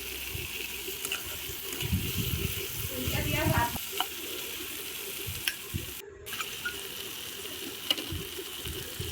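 Rice sizzles in a hot pan for a rui fish-head muri ghonto, with busy stirring scrapes for the first few seconds, then a steady frying hiss with occasional clinks and faint background chatter.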